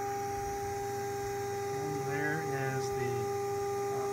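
A 400 Hz test tone from a signal generator feeding an all-original ARC-5 receiver with a repaired dynamotor, heard as a steady hum throughout, with a brief wavering sweep partway through.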